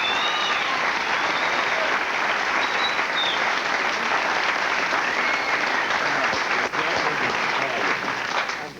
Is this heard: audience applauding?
yes